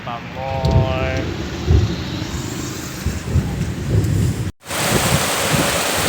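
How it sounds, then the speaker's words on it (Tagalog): Heavy rain pours steadily with a dense hiss, along with low rumbling and voices talking over the downpour. "Grabe ulan na."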